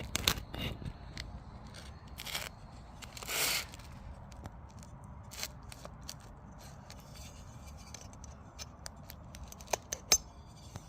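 Scissors snip through the wrapping of a World War Two era package, which may be greaseproof paper, holding a part for a 1912 Wayne petrol pump: sparse, sharp cuts and rustling handling noises, close and quiet against a faint room background.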